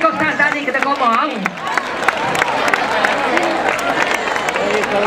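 An audience breaks into applause after a cover of a song, a dense, steady patter of clapping with crowd noise mixed in throughout.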